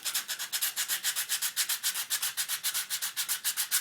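A Ruger SP101 revolver grip is sanded by hand with coarse 80 grit sandpaper, giving rapid, even back-and-forth rasping strokes that are close and fairly quiet, with no talking.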